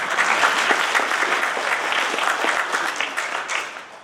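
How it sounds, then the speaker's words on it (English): Warm applause from an audience at a Thanksgiving celebration, welcoming a mountain dulcimer group called the Hallfield Jammers, steady dense clapping that gradually fades over four seconds. "Give them a round of applause."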